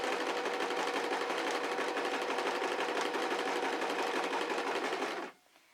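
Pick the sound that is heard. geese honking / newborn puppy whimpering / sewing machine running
sewing machine running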